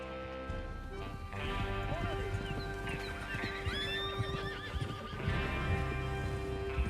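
Horses in the video game Red Dead Redemption 2 whinny and neigh several times over steady clip-clopping hooves, with a low background rumble and bursts of movement noise, fairly quiet overall.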